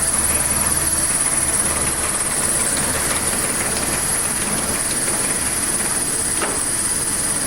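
A 1979 Triumph Spitfire engine idles steadily and quietly, a constant low mechanical hum with a faint high whine on top, continuous for the whole stretch with no revving.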